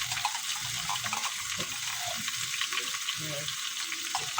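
Fish frying in a pan gives a steady, close sizzle and crackle, with faint background voices underneath.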